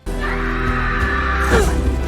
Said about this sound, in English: Did they just use a stock scream for Nami?